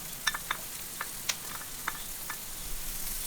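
Chopped green chillies frying gently in butter for a bitter gourd sambol, stirred with a few light scraping taps over a soft, quiet sizzle.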